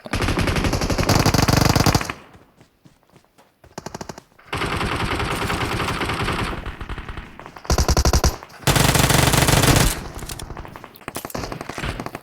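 Loud rapid automatic gunfire from a solo ranked online shooter game comes in long sustained bursts separated by short pauses, heard close with no talk.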